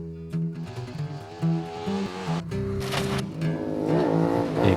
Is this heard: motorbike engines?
yes